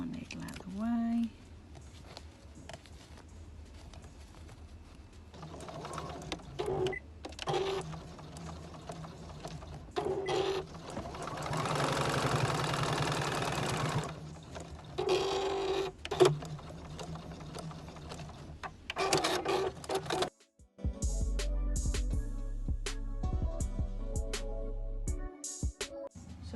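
Sewing machine stitching scraps of fabric together, whirring in bursts with short pauses and brief mechanical clicks, a voice speaking between the runs of stitching.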